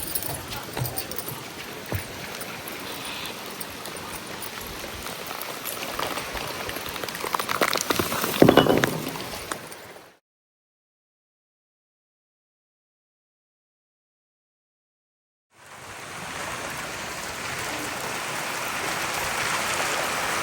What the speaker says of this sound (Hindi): तब तक होने लगी है रिमझिम वाली बारिश।